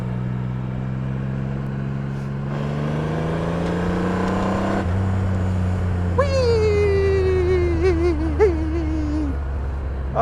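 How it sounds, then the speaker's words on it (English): A Triumph Rocket III motorcycle with a 2.3-liter three-cylinder engine runs with a deep, steady low drone that rises in pitch as it revs, a loud close hum throughout with a higher whining tone joining midway. "I feel like it does sound like a big turbo diesel tractor trailer or something."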